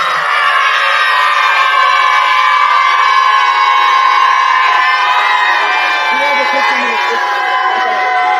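A large crowd of children chant together in one long sustained shout answering a Takbir call, a dense loud wall of voices held steadily without a break.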